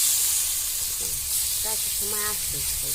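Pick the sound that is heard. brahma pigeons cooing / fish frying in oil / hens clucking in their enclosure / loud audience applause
fish frying in oil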